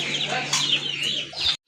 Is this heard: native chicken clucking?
yes